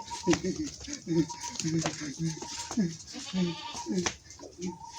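A goat bleats several times in a comedy skit, with the bleats mixed into loud, overlapping talk and nearby movement.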